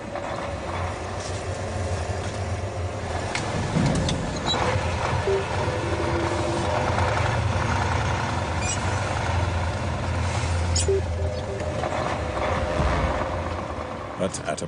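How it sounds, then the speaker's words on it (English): Old truck engine labouring on an icy mountain road in Tajikistan, a steady low rumble with mechanical rattling running throughout, fairly loud and continuous. "The truck appears to have regained traction."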